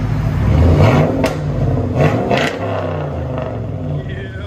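A straight-piped Pontiac with an LS1 V8 revs loud and close, its deep rumbling exhaust rising and falling through several throttle blips with a rough, raspy edge.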